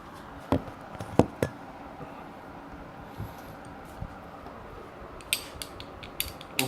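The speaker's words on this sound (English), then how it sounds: "I've still got the 8mm socket and ratchet out from yesterday." An 8mm socket on a ratchet works a seat bolt loose on a motorbike, giving scattered close metallic clicks and clunks in irregular bursts over a quiet background, with no speech.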